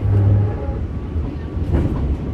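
The Cikuray passenger train rumbles through Gede Bage station, a loud, close, continuous low roll of wheels on track with faint metallic clatter layered over it.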